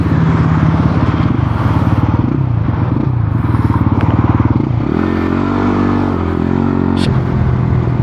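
Yamaha Cygnus scooter being ridden, its engine a steady close drone with harmonic buzz throughout, some clattering and wind noise over it, and a brief shift in engine note partway through.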